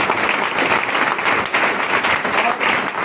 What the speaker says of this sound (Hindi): एक बार सर के लिए जोरदार तालियां।